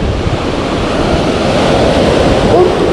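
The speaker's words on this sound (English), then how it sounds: "look at these big waves here to get back in home with" Big ocean surf pounds the Oregon coast in fall: a loud, steady roar of crashing, churning waves fills the whole stretch, with wind rumbling across the microphone.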